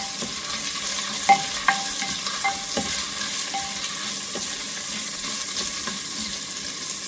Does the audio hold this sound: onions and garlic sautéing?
yes